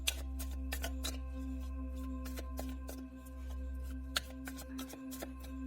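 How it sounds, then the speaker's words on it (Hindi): Tarot cards are shuffled and drawn in a quiet room, giving a series of soft, quick riffling flicks and taps at close range over a faint steady background hum. "पहले हम आपके लिए कुछ कार्ड्स निकालेंगे।"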